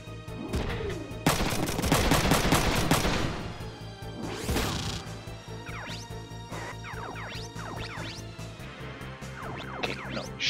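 Front Mission 3 combat: a dense burst of rapid gunfire and crashing impacts fills the opening seconds, then gives way to scattered lighter hits and whooshes over a steady low hum.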